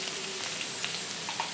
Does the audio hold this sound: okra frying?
yes